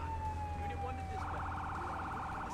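In the Firefighting Simulator video game, a fire engine siren sounds a descending wail, then switches to a rapid warbling yelp over steady engine noise.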